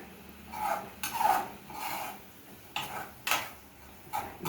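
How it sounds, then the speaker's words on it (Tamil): Spoon scraping and clinking in a pan as green bean masala is stirred with grated coconut, several soft, uneven strokes close by with no talk. "இதை ஒரு லேசாக ஒரு கிளர் கிளறேன்"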